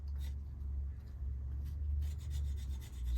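A knife scrapes the base of a fruit tree cutting on an allotment, making a soft rasping rub close up, with a few sharper scratches over a steady low background rumble.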